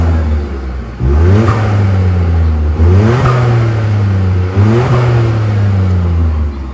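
A white 2020 Ford Focus 5D ST-Line Lommel with a 1.5 engine, modified exhaust and the exhaust valve open, revved three times in loud, close bursts, each rising sharply and then easing back to a throaty idle.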